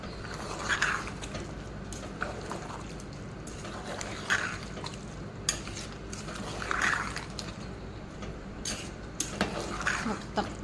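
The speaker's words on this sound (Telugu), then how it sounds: "రైస్ అంతా ఇలా వేసేసుకొని ఒకసారి ఇలా అంతా కలుపుకోవాలి" Cooked rice being stirred together with pieces of salted fish in a metal pot, giving repeated scraping and clinking of a spoon against the pot in bursts over a steady low background hum.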